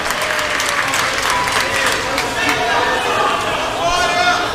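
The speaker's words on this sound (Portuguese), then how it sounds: "Toma o seu assento aplaudindo a Jesus" Church congregation applauding Jesus during a Pentecostal service, a loud sustained wash of clapping from a large crowd with voices, shouts and musical tones mixed in throughout.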